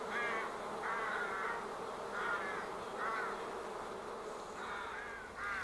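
Honey bees buzz at an opened hive in spring, a steady hum beneath repeated short, harsh calls that rise and fall in a loose rhythm, moderately close with no voices.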